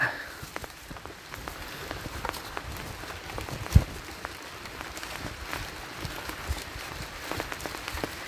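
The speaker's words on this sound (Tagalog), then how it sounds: "Hindi natin masyado maramdaman yung ulan po mga kabayan kasi mga dinadaanan natin ay puro mga punong kahoy." Rain falls through a mountain forest canopy, a soft, steady patter of scattered drops and drips over a diffuse hiss, with one sharper knock near the middle and no talking.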